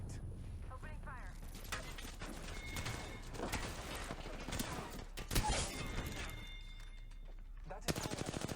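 Automatic weapon fire in Apex Legends, playing as Bloodhound: rapid bursts of shots and mechanical clatter, fairly quiet overall, with a sharper peak midway and a final quick burst at the end.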